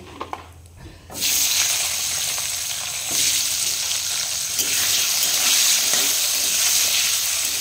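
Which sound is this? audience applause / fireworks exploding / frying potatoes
frying potatoes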